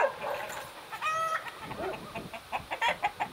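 Hens cluck repeatedly in a village farmyard in Selkovo, Russia, with short close calls and one drawn-out squawk over light outdoor background noise.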